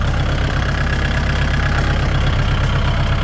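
A used Kubota L5018NT Limited Edition tractor engine idles loud and close, a steady, rapid, pulsing diesel chug with no talking.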